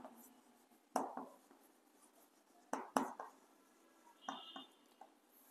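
Chalk or marker scratching on a board while a math verification is written out, with a few separate bursts of strokes, quiet and close, in short clusters with pauses between.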